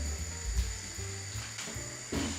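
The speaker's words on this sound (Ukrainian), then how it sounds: "Накриваю кришкою і підсмажую на середньому вогні" Yeast-raised apple fritters frying in oil under a lid over medium heat, a quiet muffled sizzle with occasional clinks and bumps, faint and even, no talking.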